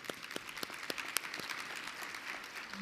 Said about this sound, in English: I want to give a round of applause to the council for its innovation and its support.